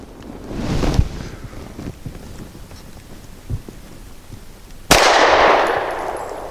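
Canik TP9 Elite SC pistol firing Norma hollow point rounds outdoors: a sharp shot near the start, a few faint clicks and thuds, then a second loud crack with a lingering windy rush after it.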